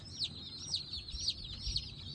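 Baby chicks in a brooder give high, repeated peeping chirps, about four clear calls in quick rhythm, close by over a low background rumble.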